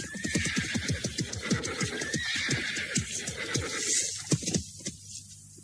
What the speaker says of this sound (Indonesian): Paman Kersa, aku tidak mau kuda lumpuh ini.